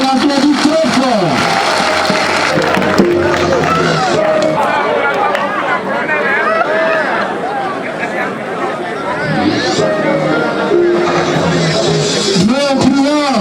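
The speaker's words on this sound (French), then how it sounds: "Qu'on applaudit très fort." Audience at a French-language school ceremony at a lycée applauds a student: moderate clapping mixed with crowd chatter and cheering voices, running throughout with talk over it.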